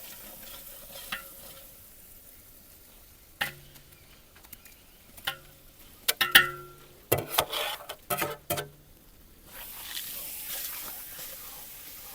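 Roasted eggplant mash for baingan bharta goes into hot masala in a pan, village style: scattered spoon clinks and scraping, then bursts of sizzling and stirring through the middle, fading to a soft hiss.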